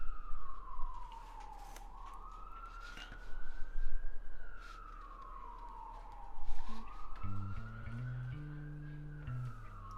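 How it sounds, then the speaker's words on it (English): A wailing siren rises and falls in long sweeps, distant but clear, with a steady low hum beneath and some faint honking near the end. "You might be able to hear those sirens."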